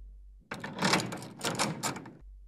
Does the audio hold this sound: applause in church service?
no